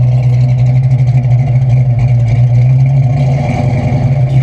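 A supercharged 347 stroker Mustang GT engine runs loud and close with a choppy, lumpy cam idle and steady revving pulses, no voices over it.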